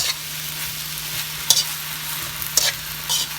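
Smoky pork and vegetables, seasoned with chicken powder, are tossed in a hot pan. A steady close sizzle runs under two sharp scrapes of a spatula against the pan.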